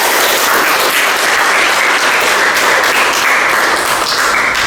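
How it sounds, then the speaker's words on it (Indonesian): Dense applause fills a classroom as students clap together at the close of a physics lesson on sound waves, a steady loud wash of hand claps from start to finish with no pauses. "Oke, lagi tepuk tangan untuk kita semua."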